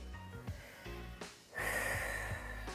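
Breath exhaled forcefully during a gentle twisting stretch in a prenatal mobility workout, with a few short audible breaths and snort-like exhales over steady background music.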